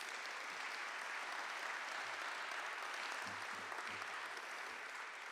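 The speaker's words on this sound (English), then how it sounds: "Please give them a round of applause." Audience at a health care hall of fame induction ceremony applauding, a steady wash of clapping for the whole stretch, fairly faint and distant, with a few low murmurs underneath.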